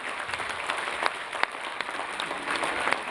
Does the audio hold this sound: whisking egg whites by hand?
no